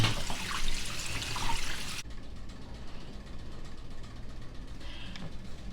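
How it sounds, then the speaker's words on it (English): Pork being washed in water with vinegar, with a loud rush of running water for about two seconds that cuts off into quieter sink splashing and faint dripping. "I'm just washing this with some vinegar"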